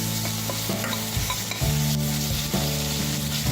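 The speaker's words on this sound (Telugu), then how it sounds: "ఒక స్పూన్ అల్లం వెల్లుల్లి పేస్ట్ వేసి వేపాలి" Onion, green chili, curry leaves and ginger garlic paste fry in a pan for egg fried rice, with a loud, dense sizzle under repeated stirring and scraping and no voices.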